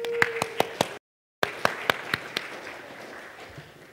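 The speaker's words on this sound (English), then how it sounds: "Clap, please" A few people clap at a security conference talk on Mac OS X weaknesses: sparse, separate handclaps close by, broken by a brief gap, then a handful more that thin out and fade.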